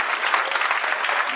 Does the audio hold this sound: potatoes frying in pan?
no